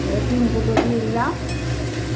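Eggs fry with spices in a pan, a dense, close sizzle with stirring scrapes that carries on throughout, with a few brief clinks and squeaks on top and no talking.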